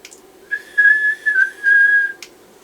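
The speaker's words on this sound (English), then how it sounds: "That's quite a loud whistle though," A loud, sustained whistle sounds during a technical test of a TD-H8, holding a steady tone in several bursts with brief dips, close and clear over a quiet background.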